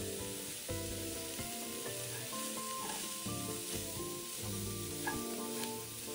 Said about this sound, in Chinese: 这时候再将五香豆腐加入拌炒